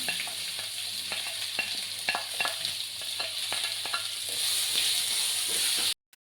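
Constant sizzling of onions, green chillies and curry leaves frying in a pan with repeated spoon scrapes and taps against the pan, ending abruptly in silence.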